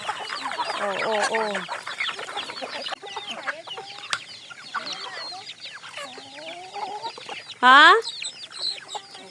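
Hungry chickens cluck busily on a countryside farm in the Philippines, a dense close chorus with a loud rooster call near the end, and a voice briefly speaks among them.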